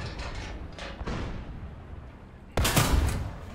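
Machine gun fire in the Charioteer game comes as a few bursts of rapid shots, a quieter spell early on followed by a sudden loud, close burst near the end.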